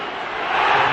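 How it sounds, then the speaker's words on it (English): Visiting football supporters jeer a player in a packed stadium at Everton vs Manchester United, 1995 Premier League: a loud, dense crowd roar that swells over one second, with no talk. "Jeered by the visiting supporters who used to cheer him"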